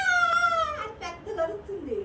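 A cat wails at night with a drawn-out, child-like cry, then several shorter meows follow in quick succession, close and fairly loud.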